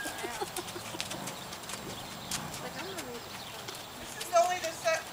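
Horse hooves clip-clopping on the ground, a series of light rhythmic hoof strikes at moderate distance, with people talking over them.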